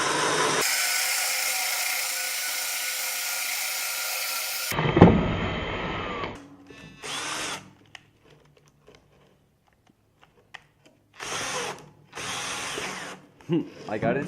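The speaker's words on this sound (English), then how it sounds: "now I'm going to drill the hole for the bird to get into the birdhouse" Power drill driving a 1 1/8 inch hole saw into a wooden birdhouse to cut the entrance hole, a loud steady whine for about four seconds that cuts off abruptly, followed by a jolt and intermittent tool clatter and handling noise.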